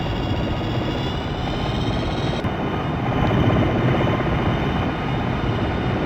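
Helicopter rotor and engine drone from a military video game, a steady loud continuous whir with thick low rumble that holds throughout, no voices over it.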